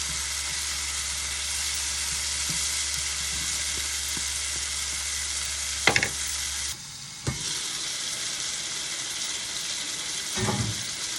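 Ingredients sautéing in a pan before fish is added, a continuous close sizzling hiss with a few brief knocks and clatters, no one speaking.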